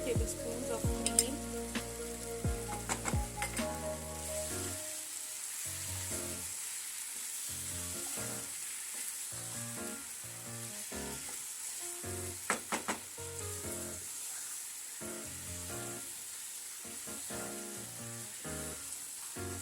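Green masala chicken sizzles steadily in a pan as cream goes in, a continuous bright crackle with bursts of stirring and clattering utensil knocks scattered throughout, no voices.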